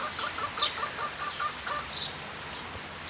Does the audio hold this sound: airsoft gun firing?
no